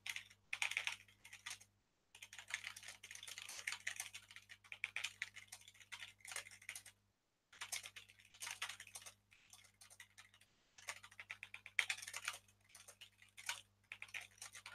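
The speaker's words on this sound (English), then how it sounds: "I'm just typing." Rapid, irregular clicking of keys on a computer keyboard, close and fairly quiet, in bursts with a few short pauses.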